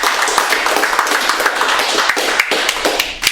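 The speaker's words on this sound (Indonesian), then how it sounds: "Tepuk tangan dulu tuh ya." An audience at a talk about the Indonesian feature film "Believe" bursts into dense, continuous clapping with a few sharper claps standing out. The clapping is close and fairly loud, and no one speaks over it.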